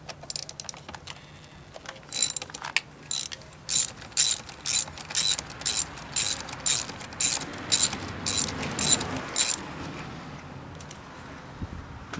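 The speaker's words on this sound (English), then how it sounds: "So I'll use a 12mm socket. We'll take this nut out." A ratchet with a 12mm socket removes a nut from a subwoofer battery connection in a Q50 car, making a series of rapid, close clicking bursts in a steady back-and-forth rhythm.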